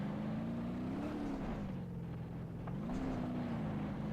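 Engine of a Hirochi car in the BeamNG.Drive driving game, held high in the rev range at around 40 to 50 mph, a steady loud drone that rises and dips in pitch twice over the span, with no talk.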